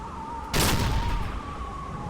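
A sudden loud explosion bursts in the submarine warfare game Silent Hunter III, a broad blast that rises sharply and rumbles on over a steady mechanical hum with a persistent engine-like tone.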